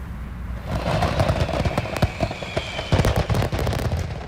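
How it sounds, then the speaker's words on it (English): Fireworks accidentally going off while being set up on a Maryland beach for a city Fourth of July celebration, a rapid irregular crackle of sharp pops and bangs over a rumbling background, fairly loud and continuous. "all the fireworks being set up for the city's 4th of July celebration accidentally exploded"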